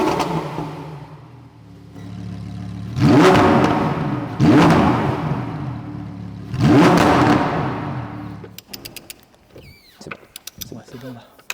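A Lamborghini Huracan STO on its stock exhaust revs three times, each a loud roaring surge that rises and falls, with the exhaust valve open and then closed. Quick mechanical clicks and rattles follow once the engine quiets.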